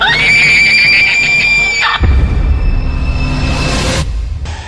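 Scream sound effect from an inner room in a Hindi horror audio story: a loud, sustained high wailing cry lasting about two seconds, followed by rough, noisy, rumbling effects and a sharp burst near the end, with no talk.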